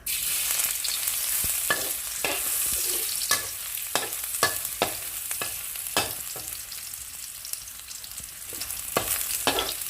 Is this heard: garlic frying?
yes